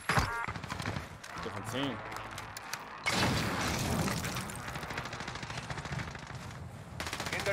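Automatic gunfire from an LC10 SMG in Warzone rattles through most of the stretch with dense rapid bursts and some impacts, while players talk over radio chatter.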